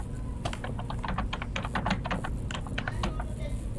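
Rapid, irregular keystrokes on a computer keyboard, close and moderately loud, clattering continuously over a low background hum.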